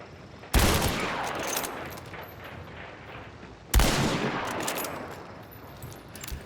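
Two heavy gunshots from the video game Hunt: Showdown, set in a bayou, each a sharp loud crack with a long reverberant tail, spaced about three seconds apart over quiet ambient background.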